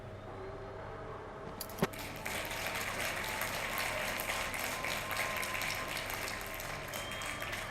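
A crowd cheers and applauds in the Night of the Rabbit adventure game, a sudden dense clapping roar that bursts in after a sharp click and then holds steady and fairly loud.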